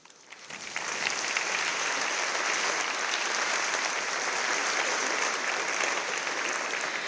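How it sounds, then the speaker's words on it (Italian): Warm audience applause at an Italian commemorative event, rising quickly from quiet into a dense, steady wash of clapping that holds evenly for several seconds, heard alone without speech. "un applauso meritatissimo a Betty Mereu"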